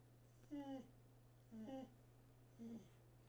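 A dog whimpers quietly in three short, whiny, pitched bursts about a second apart, faint over a constant low electrical hum.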